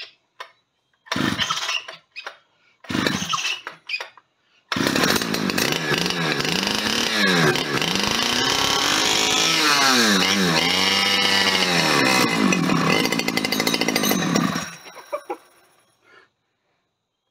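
A Stihl 010 AV chainsaw sputters through a few short pull-start attempts, then catches and runs loudly for about ten seconds with revving swells before cutting out; chickens cluck faintly nearby.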